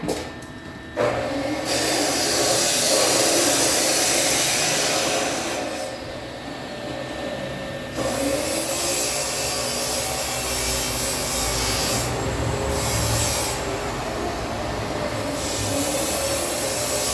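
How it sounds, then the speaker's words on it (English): A chop saw cuts a small piece of 2-inch exhaust pipe outdoors, a loud sustained grinding whine with brief dips as the blade spins down and bites again, lasting well over fifteen seconds. "go all the way out back to the chop saw so it's not making a mess in the shop"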